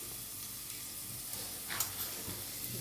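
Turmeric and chili powder go into a frying drumstick curry, giving a soft, continuous sizzle with a brief hiss burst near the end and a few light stirring clicks, moderately quiet and without talk.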